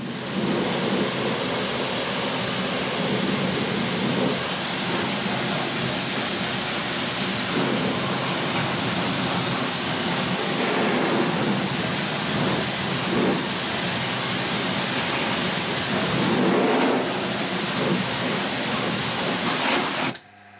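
Pressure washer jet blasting a car's wheel arch during wheels-off winter prep, rinsing away dissolved brown fallout residue; a loud, steady roaring spray that holds for about twenty seconds with slight surges and cuts off at the end.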